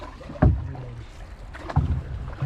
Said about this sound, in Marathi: अजून एक होडी येत आहे आपल्या जाल्या उचलण्यासाठी